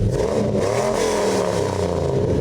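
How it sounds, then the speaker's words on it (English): A 2002 Sierra truck's engine rumbling through a Flowmaster Super 40 exhaust, a steady, loud, close low drone with a slight rise in pitch and no talk over it. "The Flowmaster Super 40 has a nice aggressive rumble"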